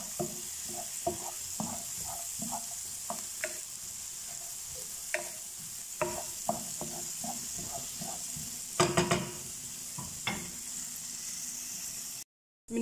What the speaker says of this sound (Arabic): وغادي نخلطو مزيان على هاد الشكل حتى تدبل لينا البصلة